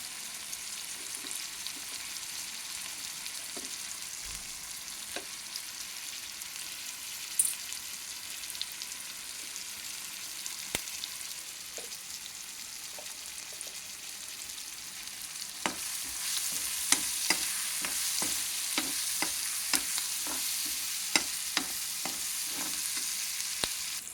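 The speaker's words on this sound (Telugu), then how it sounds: "ఇవన్నీ టమాటాలు వేగిపోయినాయి" Tomatoes fry in a pan with a steady, soft sizzle, joined in the latter half by sharper crackles and scraping stir sounds, close and continuous with no voices.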